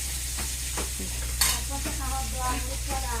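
Fish sizzles in a pan on the stove while something is stirred, with soft scraping strokes and a steady low frying hiss in a quiet home kitchen.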